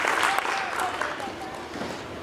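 An audience at a middle school spring band concert claps and cheers steadily in a large room, a dense wash of applause that tapers slightly toward the end.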